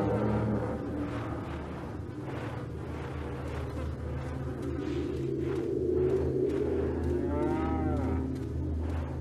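A cow moos in Resident Evil 4, several drawn-out lowing calls sounding loud and close over a low rumbling game ambience.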